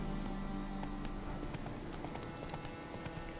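Geralt's horse Roach galloping in The Witcher 3, a steady rapid clip-clop of hooves running throughout, fairly loud with some background game ambience.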